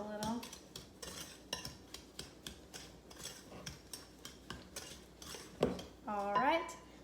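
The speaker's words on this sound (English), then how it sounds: "Go ahead and mix that up a little" A spoon beats banana pumpkin bread batter in a bowl, making a steady run of soft clinks and knocks against the sides, roughly twice a second, with a short voice near the end.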